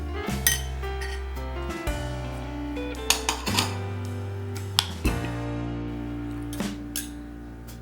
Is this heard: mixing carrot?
yes